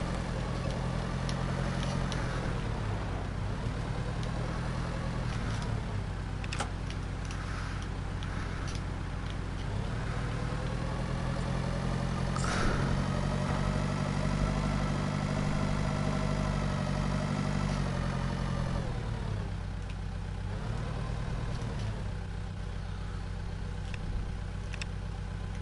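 A tractor engine idles in the Pure Farming 2018 farming game, a steady loud mid-pitched rumble with a regular ticking pulse that holds throughout with slight rises and dips in speed.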